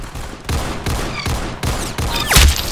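Gunfire in the Roblox game Arsenal: a quick run of loud, close shots, about five sharp cracks in an uneven rhythm, with the last one heavier and more booming.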